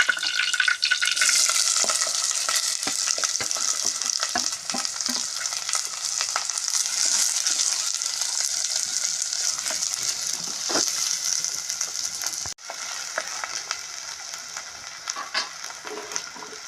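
Green chilies fry in hot oil for an onion pakodi curry, giving a dense, continuous sizzle that stays close and fairly loud, with scattered stirring clicks and scrapes throughout.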